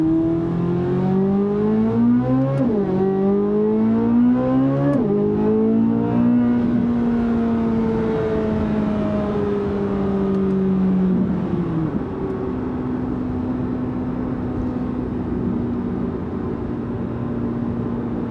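Chevrolet Corvette C8 Z06 accelerating hard on an open road, its engine note climbing steadily through several gears with clear rising sweeps and shift dips, loud and close from inside the car, no talking.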